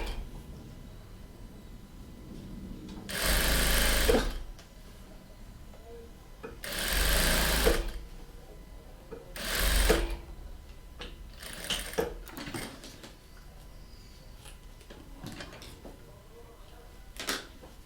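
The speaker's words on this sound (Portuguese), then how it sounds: "E aí é só vir costurando." A sewing machine stitches the fabric lining onto a zipper of a multipurpose travel pouch in several short bursts of whirring, separated by pauses with soft talk and handling noises.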